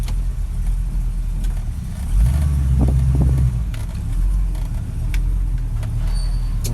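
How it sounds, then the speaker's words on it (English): A Plymouth Cuda's engine runs at a loud, steady idle with a deep rumble and a brief swell in revs partway through, heard close up and alone, with a slight hitch in its running. "Well, she's running pretty good."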